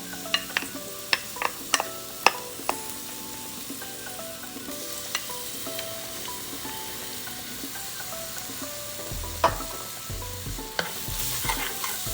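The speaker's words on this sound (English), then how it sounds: "we're just going to let that simmer until you start to really smell the fragrance of the garlic" Garlic simmering and frying in a pan, a soft continuous sizzle broken by sharp clicks and scrapes of stirring, quiet overall with a few louder knocks toward the end.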